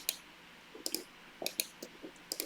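Fingers tap on a computer keyboard in quiet, scattered bursts of sharp clicks close by, a few separate keystrokes spaced irregularly.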